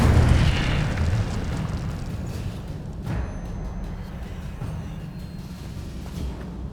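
The Incendio fire spell is cast in Hogwarts Legacy, giving a whooshing, roaring burst of flame that starts loud and settles into a steady rumble, with one sharper flare midway and no talking.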